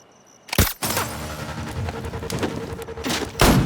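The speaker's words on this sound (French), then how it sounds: "Il y a un fusil à l'intérieur qui tire tout seul." Gunfire erupts from a remote-controlled rifle hidden inside a van in a film scene, a loud sharp burst followed by sustained clattering shots and impacts, with another heavy blast at the end.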